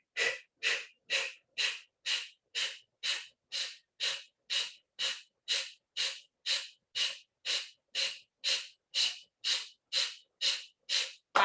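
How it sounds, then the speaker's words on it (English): Kapalbhati yoga breathing, a steady series of about twenty sharp, forceful exhalations through the nose, evenly spaced roughly every half second, close and alone without talk. "Kapalbhati breathing."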